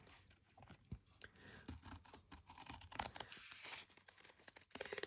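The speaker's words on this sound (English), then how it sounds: "I'm going to have to cut on the inside of the stitching." An envelope is cut open along the inside of its stitching, a close series of faint, irregular snips, scrapes and papery tearing sounds.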